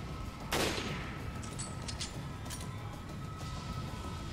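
A single sharp gunshot bursts out in Resident Evil Village, followed by a few fainter clicks and snaps over a constant game background hum.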